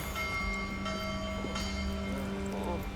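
A warning bell rings in the video game Assassin's Creed Unity, its sustained tones sounding through steady game ambience and background rumble in a city setting.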